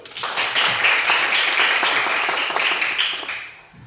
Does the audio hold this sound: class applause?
yes